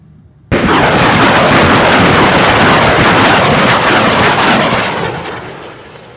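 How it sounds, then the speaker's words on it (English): ASTROS-2 rocket artillery system firing at a target during a military live-fire exercise, an abrupt loud roaring blast that sustains as a heavy rushing rumble for several seconds before slowly fading. "the ASTROS-2 will fire towards target number 12 and beyond"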